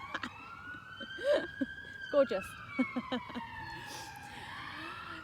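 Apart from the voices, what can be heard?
siren in the background outdoors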